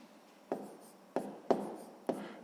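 Pen strokes on paper while writing numbers for a sixth-grade math exercise: four short, faint scratchy taps at roughly half-second intervals in a quiet room.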